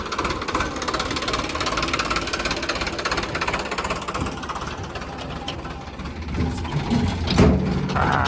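A tractor engine running at a site with JCB work nearby, a continuous rough knocking chug with a rattling mechanical rhythm, fairly close and steady throughout.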